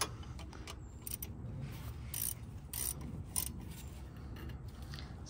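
A 19 mm wrench tightening a front brake caliper bolt on a 2007 Honda Fit Sport, giving a run of close ratcheting clicks and short mechanical ticks with no talking.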